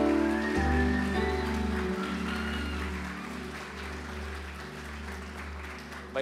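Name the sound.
audience applause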